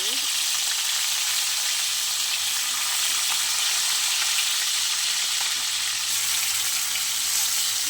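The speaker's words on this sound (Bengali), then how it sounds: "চলো সুন্দর করে ভেজে নিই" Turmeric, chili powder and salt fry in hot oil for a bata fish, cauliflower and potato curry, giving a loud, steady, close sizzle that continues without a break.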